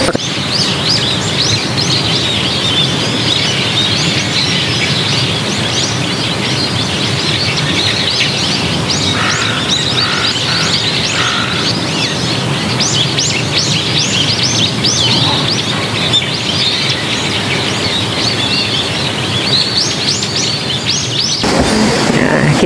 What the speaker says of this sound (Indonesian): kicau-kicau burung.